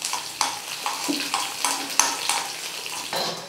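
Garlic cloves crushed with skin and lentils frying in oil for a chutney tempering, with a steady sizzle broken by regular spoon strokes against the pan about every half second.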